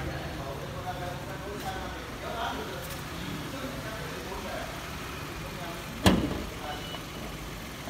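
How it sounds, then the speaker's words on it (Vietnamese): A 2011 Kia Morning Van, an imported model with its original engine, idles with a steady, low rumble, and one sharp knock is heard near the end. "bây giờ em ở phần máy nên để cho anh em xem chất máy của chiếc xe này nó như thế nào"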